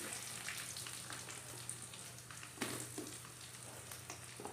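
Sliced onions fry in hot oil in a home kitchen pan, a soft continuous sizzle with faint crackles and occasional stirring scrapes, low and even with no talking.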